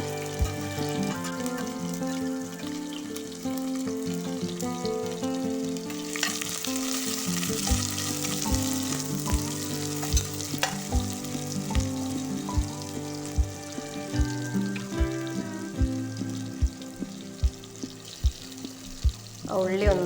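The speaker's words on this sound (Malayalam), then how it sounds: "നമുക്ക് സവാളയും എല്ലാം ഒന്ന് വഴറ്റിയെടുക്കണം" Onions half-sautéing in a pan for a pasta dish, a steady close sizzle and frying hiss with stirring and scraping clatter running throughout, over faint background music.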